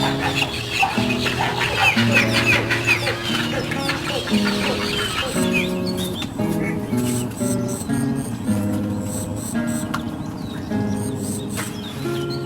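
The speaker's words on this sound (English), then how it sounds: "The young birds are hungry and urging their parents to go in search of food in the nearby water." Young little egrets in a Vietnamese mangrove swamp call hungrily for their parents, a dense, continuous chorus of overlapping clucking, squawking cries that stays loud throughout.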